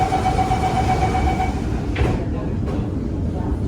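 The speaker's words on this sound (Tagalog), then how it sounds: "So dito na kami sa MRT station, papunta ng Art Science Museum." Singapore MRT subway station, with a constant low rumble of a train and platform noise, a faint tone early on and a soft sliding-door swish midway, while people talk nearby.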